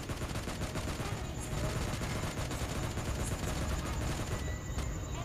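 Sustained automatic gunfire from a SCAR-L assault rifle in the mobile battle royale game PUBG Lite, rapid dense bursts running loud and continuous throughout with no pause.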